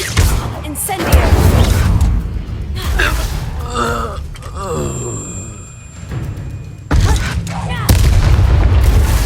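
Incendio fire spell blasts in Hogwarts Legacy combat, loud booming bursts of flame and impact mixed with gasps, groans and combat voices, close and intense, with a magical ringing tone in the middle.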